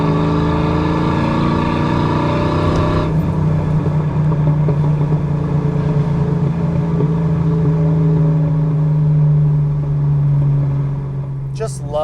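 One-owner 1993 Ford Mustang GT with a 5.0 V8, five-speed manual and Flowmaster exhaust, droning loud and steady while cruising, with a gear change early on and the rumble easing near the end.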